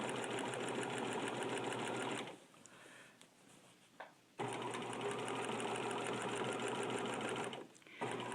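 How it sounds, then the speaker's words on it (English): A sewing machine runs a zigzag stitch over a small quilt edge in fast, steady bursts of rapid needle chatter, close and loud, with two short pauses between runs. "So I'm just zigzagging over this small edge."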